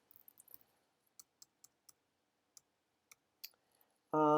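Scattered clicks and keystrokes from a computer keyboard and mouse, sparse and irregular with pauses between presses, ending in a sudden loud burst of sound.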